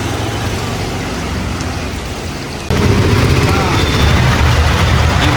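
Steady rain falls during a train journey from Mangalore to Thrissur, a dense continuous hiss that suddenly grows louder and fuller partway through, layered over low rumbling.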